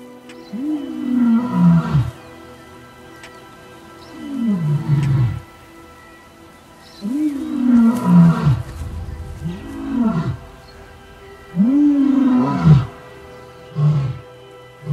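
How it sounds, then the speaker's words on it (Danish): A lion roars loudly and near: a series of deep, grunting roars repeated every couple of seconds, each swelling and falling, with no talking. "Når en løve brøler, spidser alle ører, selv et næsehorn."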